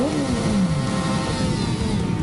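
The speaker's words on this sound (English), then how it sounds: "I know some of these guys right here doing burnouts and stuff, like hooligans" Motorcycles doing burnouts at the Atlanta Mob Ride produce a continuous engine roar with a falling whine early on, steady and fairly close throughout the short stretch.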